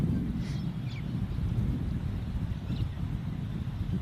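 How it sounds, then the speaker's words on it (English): Steady low wind rumble buffeting the microphone, loud and constant throughout with no other clear sounds. "It's too windy out here."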